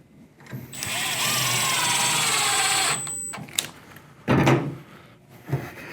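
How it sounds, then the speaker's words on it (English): Power driver screwing down the bottom track of a panoramic door, a steady whining drive lasting about two seconds, followed by a few clunks and short knocks, close and alone. "Screwing this back down."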